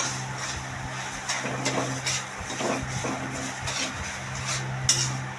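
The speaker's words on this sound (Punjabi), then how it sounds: "ਚੰਗੀ ਤਰ੍ਹਾਂ ਹਲਾਓ ਵੀ ਥੱਲੇ ਨਾ ਲੱਗ ਜੇ" Sooji kadah parshad is stirred in a pot with raisins added, a spoon scraping and clinking against the metal in irregular strokes over a steady low hum.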